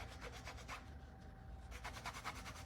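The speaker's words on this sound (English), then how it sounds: "So then I would just burnish it like here." A steady, quiet rubbing rasp as a tool is worked along a sanded leather edge to burnish it, continuous and close with a faint rhythmic back-and-forth texture.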